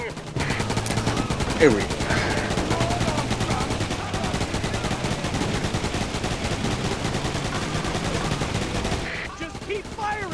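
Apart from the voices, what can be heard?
gunfire from the video game Roadkill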